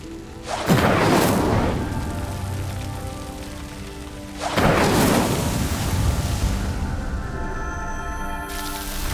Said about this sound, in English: Incendio. Merlin's beard! The flames make the pyre sink.